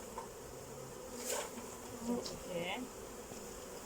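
Honey bees buzz steadily around a brood frame lifted from a hive, a dense close hum with louder swells as individual bees pass near, and a few soft spoken words underneath.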